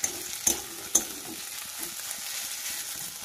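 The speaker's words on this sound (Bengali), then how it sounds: "এটাকে দিয়ে ভালো করে মিশিয়ে নিতে হবে মশলাটার সাথে।" Boiled, mashed fish being mixed with spices for fish chops, with a soft continuous sizzle-like wet texture and a few sharp spoon knocks against the pan near the start.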